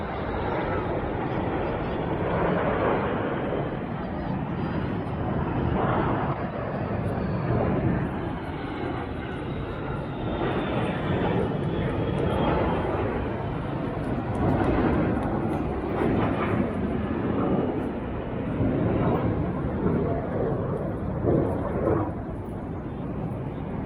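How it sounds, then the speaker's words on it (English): Military jet aircraft roaring overhead at a Qatar National Day air show, a loud, continuous broadband engine rumble lasting throughout with outdoor crowd ambience beneath. "Look at the air show. You can see the air show."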